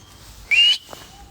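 A single bright, shrill whistle rising slightly in pitch, brief and clear against a quiet background, followed by a faint chirp.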